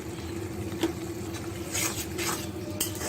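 Spices being stirred and sautéed in a pan for a Bengali cabbage fry, a steady soft sizzle and patter under scattered clinks and scrapes of a utensil against the pan, close by with no talk.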